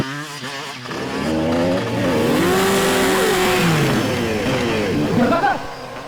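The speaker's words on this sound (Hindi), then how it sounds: "जिस तरीके से इसने बाइक का स्टंट किया है" A motorcycle engine revs loudly during a bike stunt in a Hindi crime TV episode, its pitch climbing and falling in long sweeps, with voices heard over it.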